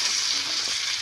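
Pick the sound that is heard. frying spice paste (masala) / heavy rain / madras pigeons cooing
frying spice paste (masala)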